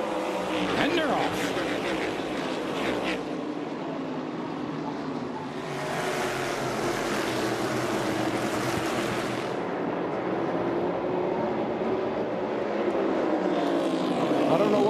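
NASCAR Cup Series stock cars race at North Wilkesboro during the 2023 All-Star Race, a continuous roar of engines with swelling pass-bys under a commentator's voice.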